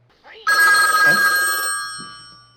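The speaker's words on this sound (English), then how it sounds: "And then the phone rings really loudly." A telephone in The Exorcist rings loudly and abruptly in a single sustained bell burst that cuts off near the end, following near silence, with no talk over it.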